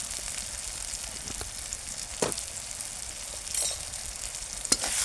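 Potatoes fry in a pan with chili powder and Kashmiri chili powder for Bengali aloo dum, sizzling steadily close by while a spatula stirs with occasional scrapes and knocks.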